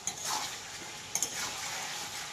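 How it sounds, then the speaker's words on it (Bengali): Chicken pieces fry lightly in a pan after releasing their water, giving a steady close sizzle with stirring scrapes and a couple of sharp clinks midway. "আজকে আমি হালকাই ভাজছি"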